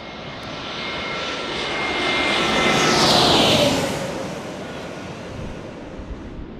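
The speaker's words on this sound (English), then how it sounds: "A321neo here." An Airbus A321neo jet airliner passes overhead near a San Diego airport, a broad roaring rush that swells to a loud peak around the middle and then fades away, with no voices.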